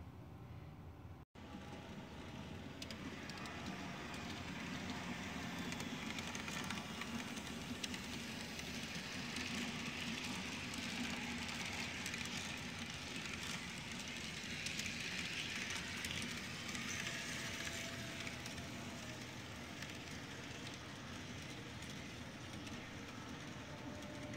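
An HO scale model train runs steadily for the whole stretch, a continuous rolling hum with faint rhythmic clatter and no voices, close and even in loudness.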